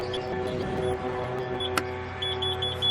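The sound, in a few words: five beeps from electric tailgate kit, Nissan Patrol Y62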